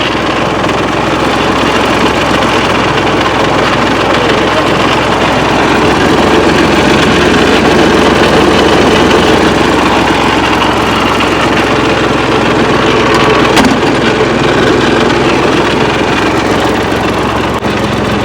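A tractor engine idles steadily and loudly close by in a guava orchard during drenching, a constant low rumble with no pauses.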